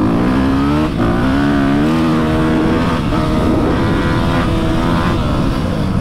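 A Yamaha YZF 250 four-stroke dirt bike with a Scalvini exhaust runs loud and close, its engine revving up and down in continuous waves of rising and falling pitch while riding, with no talk.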